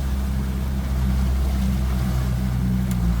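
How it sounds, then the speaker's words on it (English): Steady low engine rumble of yachts motoring out of a harbour, a constant droning hum with faint water wash, no voices. "it's busy getting out of the harbour, all the yachts going out for the day."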